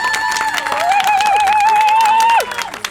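A theatre audience applauds after a stage show, steady loud clapping and cheering over about three seconds, with a sustained whistle or tonal sound riding through the middle before the applause thins out.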